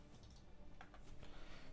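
Computer keyboard clicking in quick, faint bursts of taps at close range, with soft ticks scattered over a low hum and no voice.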